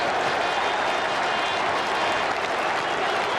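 Dense, steady applause and cheering from a large football stadium crowd celebrating a Liverpool goal, a continuous loud wash of clapping filling the whole stretch without a break.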